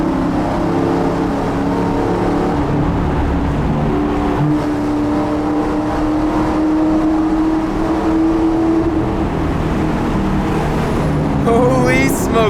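Car exhaust from a drift car revving as it passes through a tunnel, a loud booming engine drone with a rising tone, reverberant and continuous, with a person talking over it.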